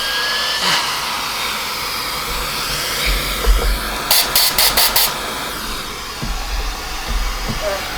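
A Riccar Radiance RAD.4 R40 vacuum cleaner under repair runs with a steady loud whirring roar, with a short burst of rapid rattling suction pulses partway through.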